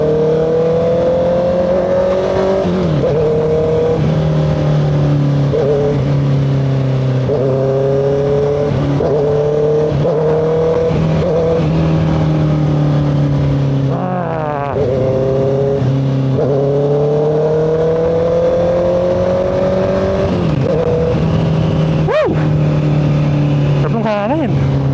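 A 2025 Honda CBR650R motorcycle engine drones loudly and steadily while riding at night, its pitch rising and dropping as the throttle is revved and gears shift.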